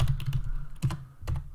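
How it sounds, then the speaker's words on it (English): Keystrokes on a computer keyboard during a Python coding session, heard as quick clattering bursts of clicks with short pauses between them, close and alone. "I should really type this out."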